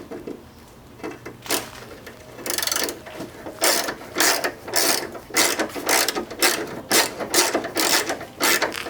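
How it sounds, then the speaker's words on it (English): Hand ratchet cranking bolts off the rear brace of an Infiniti G35, steady bursts of loud rapid pawl clicking repeated in quick strokes, close up with no talking. "crank away these bolts for you guys"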